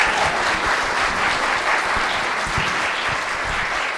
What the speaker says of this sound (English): how about a round of applause for our panelists?